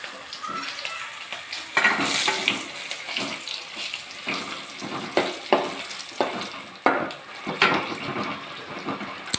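Dried red chillies fry in sesame oil for a curry leaf dish. Loud crackling and bubbling sizzle close by, with repeated sharp scraping and stirring knocks at irregular intervals and no voice.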